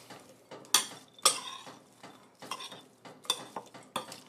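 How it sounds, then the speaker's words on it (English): A spoon stirring a dish in a kitchen, producing sharp irregular clinks and scrapes against the pot, several distinct strikes spaced apart, fairly close and moderately quiet. "I'm gonna give this a little stir"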